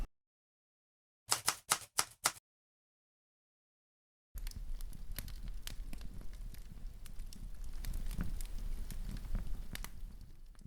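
A campfire crackles steadily with sharp pops and snaps over a low rumble, close and moderately loud. Earlier comes a short burst of quick, crisp clicks after silence.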